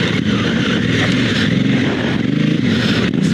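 A motorcycle on Metzeler Karoo adventure tires pulls hard in a higher gear, its engine a loud, close, steady drone with rough low rumble and some wind and tire noise, with no talking over it.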